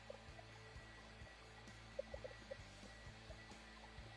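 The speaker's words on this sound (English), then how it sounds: "So I've got the hairdryer a long ways away." A hair dryer held far back from wet paint on a sketch, giving a faint, steady whirring hum with a few light clicks and taps over it.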